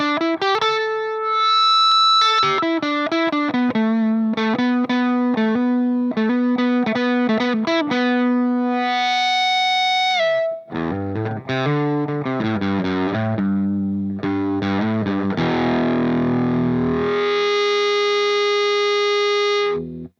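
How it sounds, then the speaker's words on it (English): Distorted electric guitar notes, run through a feedbacker pedal, ring out and swell into sustained, singing feedback tones, loud and close, with quick picked runs between long held pitches. "this pedal really you can play any note and it sustains the note to a feedback"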